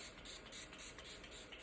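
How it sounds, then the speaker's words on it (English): XX Revolution Glow Fix setting spray misting from a pump bottle, a soft steady hiss in several close, quiet pulses without talk. "Let's get a little glow setting spray on."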